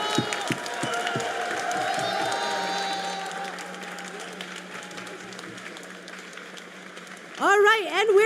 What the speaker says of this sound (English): Round of applause for the guys from Orichimua.